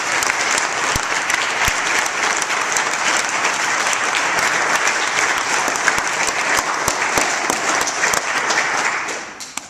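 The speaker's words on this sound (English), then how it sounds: "we're just going to applaud and maybe you'll hear it wherever he is" Dense, loud applause from an audience at an event honoring a priest, continuous clapping with scattered sharp claps for nearly ten seconds before tapering off at the end.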